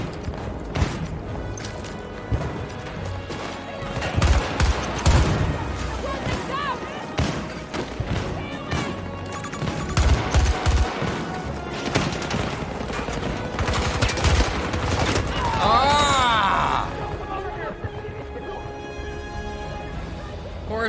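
Gunfire in the Battlefield 2042 shooter on the Hourglass map, with dense bursts of automatic weapons and explosive thuds, loud and close, mixed with game effects while a player talks over the action.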